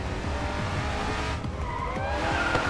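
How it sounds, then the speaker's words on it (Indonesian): Bugatti Chiron drifting continuously in the Racing Master video game, engine droning loud and steady while tires skid and squeal throughout, with no talking over it. "Nitisri has continuous drift in Chiron"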